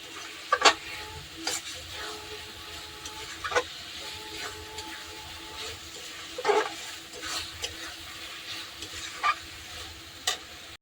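Spices frying and being stirred in a pan for Bengali egg curry, a soft continuous sizzle broken by scattered scraping clinks of a spoon against the pan.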